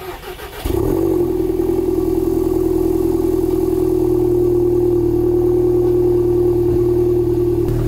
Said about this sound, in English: let's hear a cold start.